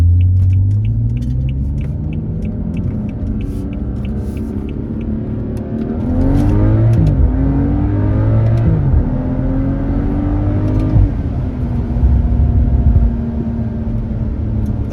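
Engine of a 2013 BMW F30 335i M Sport on the move, a deep steady rumble from inside the car with the pitch climbing and falling as it revs through gears, sustained and fairly loud throughout.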